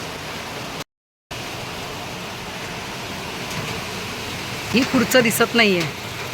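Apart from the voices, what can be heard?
heavy rain pouring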